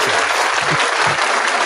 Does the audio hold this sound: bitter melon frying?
no